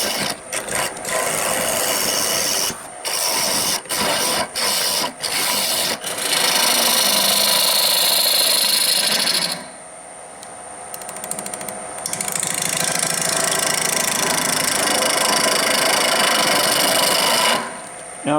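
Wood lathe cutting a winged bowl: a steady, rough scraping and grinding whir, broken by a few quick stuttering interruptions early on, with a short drop in level midway before the cutting resumes.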